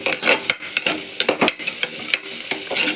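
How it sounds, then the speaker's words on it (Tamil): Vegetables sautéing with biryani masala in a pan for vegetable biryani, with bursts of stirring scrapes and crackling sizzle recurring in an uneven rhythm, close and moderately loud, with no talking. "இது நல்லா வதக்கணும்"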